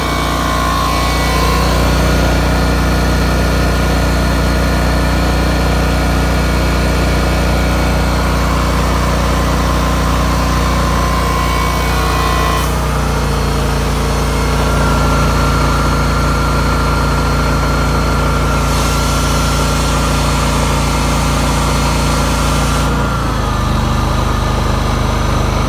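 Honda EU7000is inverter generator running at full load with an RV's appliances and two hair dryers on, a loud steady engine drone with slight pitch shifts as the load changes.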